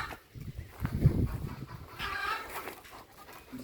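Egg-laying hens on a small organic farm cluck and call nearby, with a louder burst of clucking followed by softer chatter from the flock.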